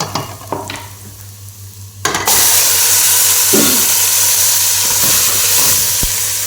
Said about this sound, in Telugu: ఉల్లిపాయలు మనకి బొన్ని కలర్ వచ్చేంత వరకు వేపాలి